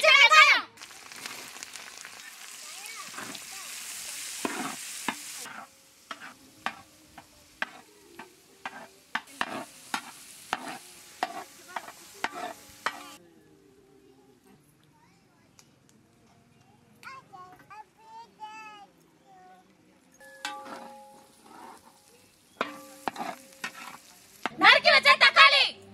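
Chopped onions and curry leaves frying in a pan for a drumstick, potato and eggplant dry fish curry, with repeated scraping stirs and light sizzling in bursts, interrupted by quiet gaps and some talking.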